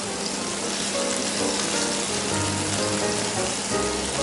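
A chunky cod fillet fries in a pan for bacalhau, a loud dense hiss and spatter that runs continuously, close by with no talking and no clear sound of the fillet being turned.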